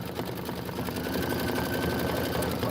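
A 10-needle embroidery machine runs steadily nearby, a continuous mechanical whir with a fast, even stitching pulse and no breaks.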